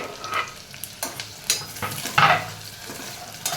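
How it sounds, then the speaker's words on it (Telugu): Paneer pieces frying in a pan give a close, steady sizzle with a series of spatula scrapes and knocks every second or so. "సో మీరు పన్నీర్ని ఇలా చూస్తూ ఫ్రై చేస్తూ ఉండండి."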